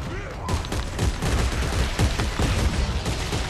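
Loud, dense gunfire from Dead Space 3 co-op play, a rapid burst-filled barrage of repeated shots that carries on almost nonstop for several seconds, close and dominant with no clear talk over it.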